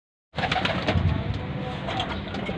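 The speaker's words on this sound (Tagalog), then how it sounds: "Bali yan, 1, 2, 3, 4, 5, 6 na kalapate mga Paps yung nakabalik galing sa bitaw." Racing pigeons coo inside their loft after returning from a release: a close, overlapping chorus of soft, throaty coos that starts abruptly and continues without pause, with no talking.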